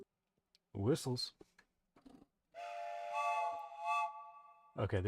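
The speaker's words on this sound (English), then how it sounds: "Okay, they're train whistles." Synthesized train whistle tones from a classic synth, a sustained multi-harmonic chord held for about two seconds with a slight swell, preceded and followed by someone speaking.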